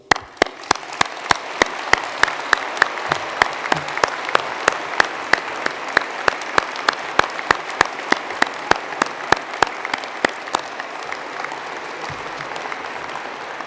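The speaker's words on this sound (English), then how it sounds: "may we all please start by applauding our graduands" Graduation audience clapping for graduands inside a large cathedral, a sustained wash of applause with a sharp, loud nearby clap repeating at a steady rhythm on top, echoing in the big space.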